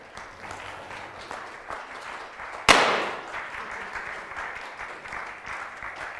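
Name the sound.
audience applause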